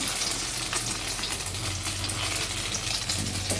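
Egg frying in a pan for egg paratha, a steady close sizzle and crackle of hot oil running without a break and with no talk.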